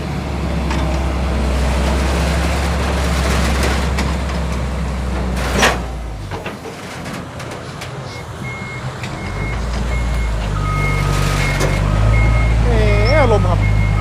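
An 18-wheel sand dump truck and trailer manoeuvres at a Mekong riverbank levee site, its heavy engine rumbling steadily while reversing beeps repeat, with a short break in the middle and a voice speaking briefly near the end.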